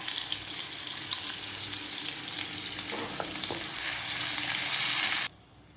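Homemade masala hits hot oil in a pan and sizzles steadily and loudly, a continuous frying hiss with faint stirring clinks, cutting off abruptly near the end.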